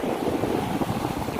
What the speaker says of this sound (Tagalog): mahangin-hangin dito ngayon